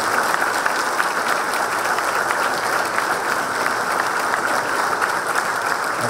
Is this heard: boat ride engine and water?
no